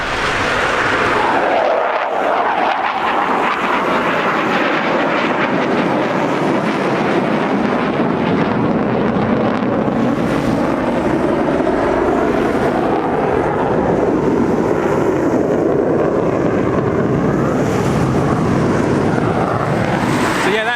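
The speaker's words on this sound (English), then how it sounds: "The F-35B and the Tornado flying together, so that was pretty cool to see." Military jets, an F-35B and a Tornado, flying past together at the Duxford airshow in rain, a loud continuous roar swelling and fading as they pass, with wind buffeting the microphone throughout.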